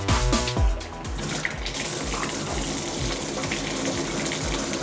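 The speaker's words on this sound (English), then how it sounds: "Yeah, you can see that it's working there." Water runs and churns loudly in a hotel jetted tub in Niagara Falls, Ontario, a continuous gushing splash with rhythmic low pulsing like a jet pump, heard close and alone.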